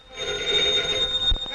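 An old telephone bell rings in a 1931 newspaper press room at the Criminal Courts Building, a loud, brief ringing burst up close that ends with a thump.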